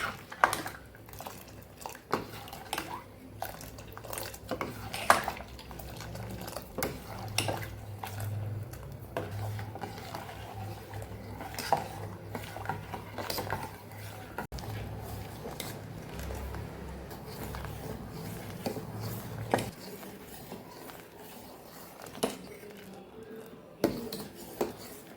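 A spoon stirring milk and cocoa with sugar in a pan, scraping and clinking against the metal sides in irregular bursts, fairly faint and close, with kitchen handling noises and no talking.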